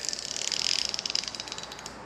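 A rapid run of ratchet wrench clicks, dozens of sharp ticks in quick even succession, loud and close, slowing slightly toward the end.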